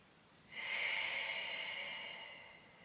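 A single long breathy exhale during a Pilates breathing exercise, close and soft, rising quickly and tapering off over about two seconds with no talk.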